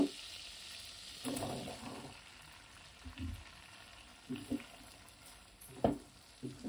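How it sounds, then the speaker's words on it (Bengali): Pointed gourd (potol) stir-frying in oil with five-spice, giving a steady soft sizzle broken by intermittent stirring scrapes and clinks, close and fairly quiet, with no talking. "পুরুলটা দিয়ে আমি একটু ভালো করে নেড়ে চেড়ে ভেজে নেবো।"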